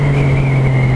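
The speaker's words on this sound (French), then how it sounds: "Le moteur en mode sport, en mode A, c'est rageux." A car engine set to sport mode holds a loud, steady rev, a close, even drone with a constant whine above it and no talking.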